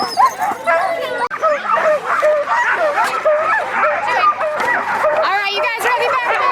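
Sled dogs on a dog sledding outing bark, yip and whine excitedly in a dense, overlapping chorus close by, continuous throughout.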